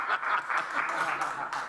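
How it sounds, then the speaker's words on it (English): Small group at a county board of supervisors meeting gives brief, light applause in a room, moderately close, with voices and a chuckle mixed in. "Y'all didn't clap for Miss Steele"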